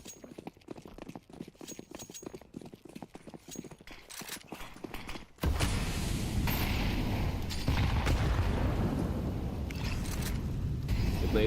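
Grenades going off during a competitive Counter-Strike match, quiet clattering footsteps first, then a sudden loud blast followed by sustained rumbling explosion noise and crackle.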